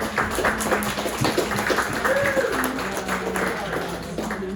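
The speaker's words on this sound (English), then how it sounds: "let's give those people a round of applause" An audience at a women's basketball event applauds the alumni association organisers, moderate, steady clapping heard somewhat distant, with voices murmuring underneath.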